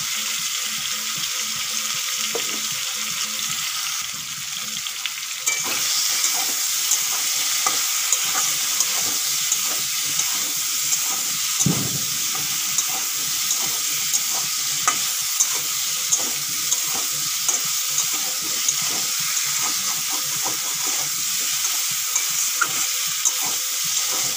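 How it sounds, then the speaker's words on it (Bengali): Raw green bananas fry in a pan with salt and turmeric, giving a steady loud sizzle throughout, with repeated stirring scrapes and clinks. No one speaks. "কলাগুলো বেশ ভালো করে ভেজে নিয়েছি।"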